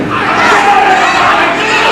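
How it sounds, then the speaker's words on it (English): A wrestling arena crowd roars and cheers, a dense continuous wall of shouting voices, loud and sustained without a break. "And there you hear the crowd."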